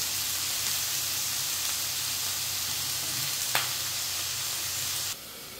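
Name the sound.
brinjal sautéing in a pan with salt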